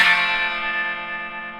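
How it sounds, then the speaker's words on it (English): Several open strings of an electric guitar with a clean tone ring out together in one strum, a bright clean chord that slowly decays with a faint reverberant tail. "We're going to play the top 3 or 4 strings open."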